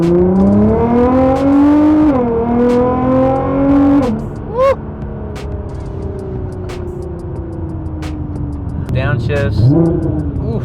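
A tuned Nissan GT-R launches hard, its engine climbing through several loud rising revs, then downshifting with sharp blips before pulling again; the car roars close and dominant, with a brief voice heard over it.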